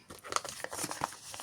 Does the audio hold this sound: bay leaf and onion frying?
no